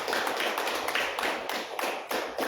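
A church congregation claps hands together in a steady, quick rhythm, the claps close and fairly loud, with no talking.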